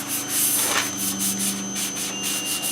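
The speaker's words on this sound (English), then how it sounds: "I did some light sanding with 320 grit." Fine 320-grit sandpaper lightly sands a shellac finish, rubbing rhythmically back and forth in quick, light strokes, a steady close-up scratching hiss with no voices.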